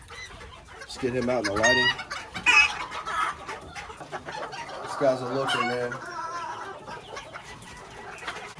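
Old English Game Bantam chickens, including a badly molting rooster, give close, repeated clucks and short calls in bursts, while someone talks between and over them.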